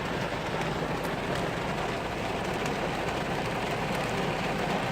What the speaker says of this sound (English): It's raining harder.